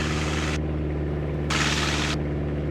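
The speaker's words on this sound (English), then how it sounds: "It's picking up that engine noise too much." A Super Cub light aircraft engine droning close and steadily with strong low harmonic tones, loud and unbroken throughout, with brief hissy bursts of broadband noise layered over it.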